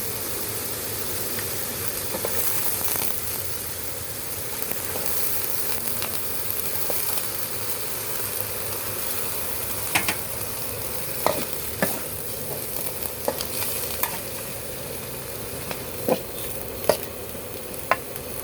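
Shrimp and chive flowers stir-frying in a pan, a constant loud sizzle with scattered sharp scrapes and clacks of a spatula growing more frequent toward the end, no talking.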